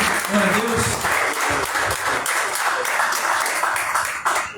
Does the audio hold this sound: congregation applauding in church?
yes